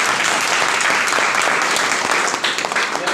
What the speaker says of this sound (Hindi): इन सब साथियों के लिए जोरदार तालियां।